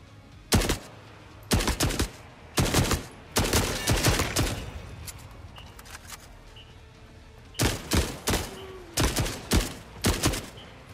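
Shotgun blasts in the video game The Forever Winter, a series of sharp, loud reports in uneven bursts: a few spaced shots, a longer rattling stretch, then a rapid cluster of five or six shots after a short lull.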